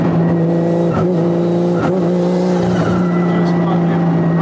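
A 1JZ-engined Nissan S13 hatch accelerates hard in a parking lot, a loud, steady engine drone heard from inside the car with brief voices over it.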